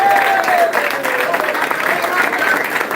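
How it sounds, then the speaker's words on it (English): Audience applause and cheering at a distributor training event, fairly loud and close, with a sustained whistle or shout rising above the clapping and voices blended into the crowd noise. "Wonderful applause."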